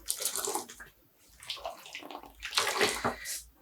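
Dyed yarn is dunked into water to detangle it, making bursts of close sloshing and splashing that come in uneven waves and pause briefly in between.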